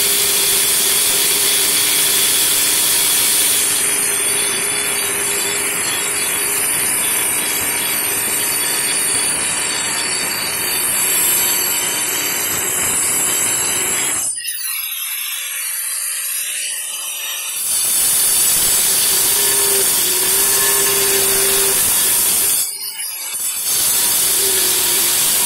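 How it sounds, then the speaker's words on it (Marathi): An angle grinder cuts through a Kadapa stone slab, a loud, steady, harsh grinding whine held for long stretches close by, with two brief pauses where the blade lifts off the stone. "हे बघा, तर अशा पद्धतीने मी ते कट करतो इथे ग्राइंडरने"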